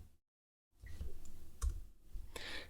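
Computer mouse clicks at a desk during office software work, a few soft, sharp taps spaced irregularly over a quiet background hum, close and faint.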